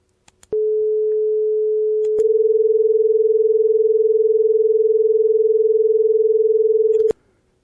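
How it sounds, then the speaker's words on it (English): Two pure electronic sine tones at 430 and 450 Hz played together, producing a loud, steady hum with a rapid pulsing beat at 20 Hz that lasts several seconds, bracketed by brief clicks. "We hear a rapid pulse, which is the 20 Hertz beat frequency."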